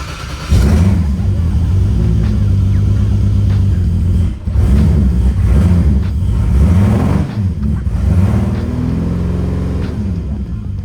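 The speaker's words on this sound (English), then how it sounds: "let's try one more time to see if it'll misfire on this startup" A Nissan S14 with a swapped 2JZ engine cranks and catches, then settles into a loud, close, rumbling idle with uneven pulses and a brief dip, running steadily to the end.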